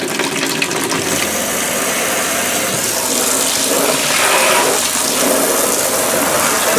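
Water sprays from an RV shower head at strong pressure during de-winterization, a steady broadband hiss and gush running evenly throughout, loud and close.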